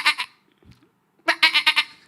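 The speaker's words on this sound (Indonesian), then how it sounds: "Kayak kambing." A goat bleats in short, sharp bursts, one brief pair of cries and then a rapid run of four or five loud bleats after a pause, close and clear with no voices.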